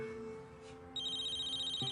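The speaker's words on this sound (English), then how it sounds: "My cell's ringing." A cell phone ringtone starts partway through, a steady electronic trill over a quiet room hum.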